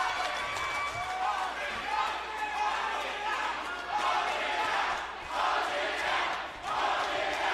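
A crowd at a West Newton indie wrestling show fills the space with rhythmic chanting and cheering in swelling waves, mixed with general arena noise and some talk.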